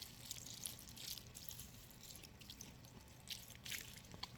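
Water is poured onto worm bin bedding, giving faint, scattered drips and soft splashes against a quiet background.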